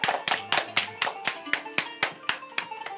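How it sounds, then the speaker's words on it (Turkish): A few people clap for friends scoring a point in a children's Ramadan quiz show, a sparse, evenly spaced rhythm of a dozen or so sharp hand claps, close and distinct. "Alkış geliyor arkadaşlarıma."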